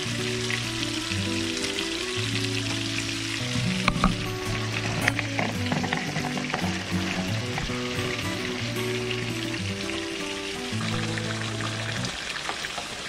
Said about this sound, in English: At this point, our pasta and our Italian meatballs are cooking up